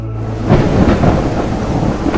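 A thunderstorm with rain in the game Ontotis, a low rumbling roll of thunder over a steady wash of heavy rainfall, close and loud throughout.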